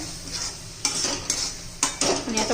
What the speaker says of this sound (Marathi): मस्त असं मिक्स करून घेऊया